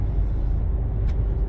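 A car engine held at full throttle on the road, a steady low rumbling drone with no voices over it.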